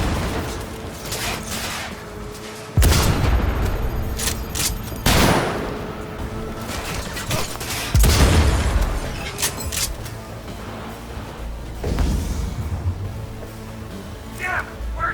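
Gunfire and explosions from a firefight in the video game Cyberpunk 2077: repeated heavy blasts and bursts of shots with booming impacts over a dense, noisy background, along with shouted voices.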